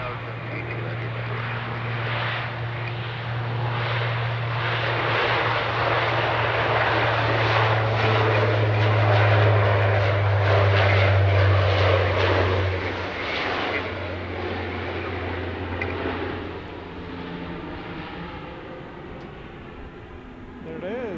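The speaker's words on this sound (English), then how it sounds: "There it is. Dash 8, my favorite Dash 8." A Porter Dash 8 turboprop airliner passes near Edmonton International Airport, its steady propeller drone and engine roar swelling and fading over about twenty seconds with a strong low hum, while people talk intermittently.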